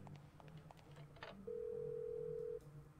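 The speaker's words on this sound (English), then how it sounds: "So I'm supposed to use the phone," Telephone in the Parasite Eve 2 video game: a few soft clicks and beeps give way to a steady electronic tone lasting about a second, with quiet game ambience underneath.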